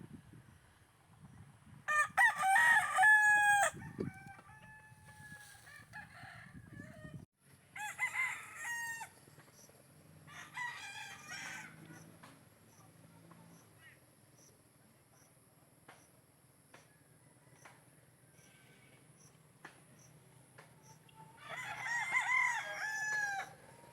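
A rooster crows several times, close and clear, with other chickens clucking softly and insects chirping steadily in the background between the calls.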